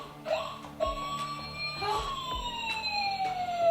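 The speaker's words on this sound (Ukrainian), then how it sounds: "І коли ми чуємо швидку медичну допомогу" An ambulance siren wails with rising and falling tones, accompanied by other sweeping electronic tones, with a few low thumps underneath.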